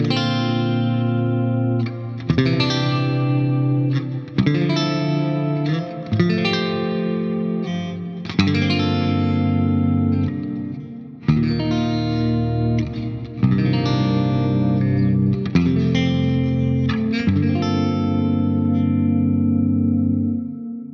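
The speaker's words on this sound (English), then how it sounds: "I have the Ganymede reverb, which sounds like this" Clean electric guitar chords through a Line 6 Helix Ganymede reverb ring out with a lush, spacious tail, each strum blooming and lingering into the next in a steady, sustained pattern.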